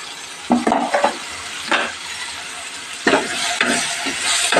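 Chicken masala with green chillies frying in a pan, half a kilo of chicken, with a busy hiss of sizzling and scraping stirs that come in bursts, close and fairly loud, no talking.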